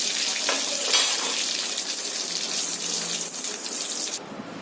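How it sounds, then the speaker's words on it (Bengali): Cumin, bay leaf and dried chilli dropped into hot oil for tempering, a steady bright sizzle that holds throughout and cuts off near the end, with no one speaking. "জিরে, তেজপাতা, শুকনো লঙ্কা ফোড়নে দিয়ে দিলাম।"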